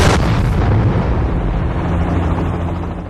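In the video game Fortnite, a frag grenade goes off with one loud, booming burst at the start, and a noisy rumble trails off over the next few seconds.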